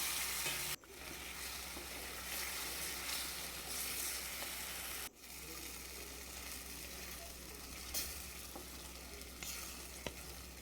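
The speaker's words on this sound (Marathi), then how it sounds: "कच्च्या टमाट्याची प्युरी केलेली तेलामध्ये छान परतू द्यायचं याला" Raw tomato puree with turmeric sizzles in hot oil, a dense continuous hiss under occasional stirring scrapes and two brief clunks, close and alone without talk.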